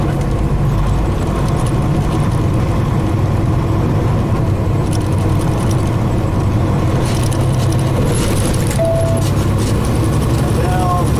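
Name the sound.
truck engine during split shift downshift on 13-speed transmission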